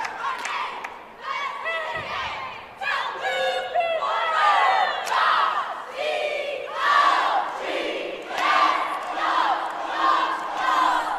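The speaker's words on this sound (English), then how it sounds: "Crowd's joining in with them." Crowd at a high school competitive cheerleading state final chanting and cheering along with the squad: loud rhythmic shouted chants from many voices swell and fall in repeated waves, with a thud partway through.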